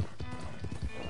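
A horse in the Red Dead video game clops its hooves in a quick, irregular run with a short whinny mixed in, faint and fairly close, over a low background hum.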